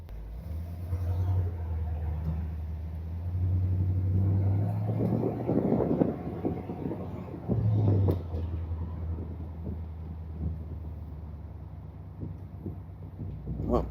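A 1979 Corvette engine runs steadily while driving in lunchtime traffic, a low, loud rumble that holds throughout and swells briefly around the middle, with road and traffic noise mixed in.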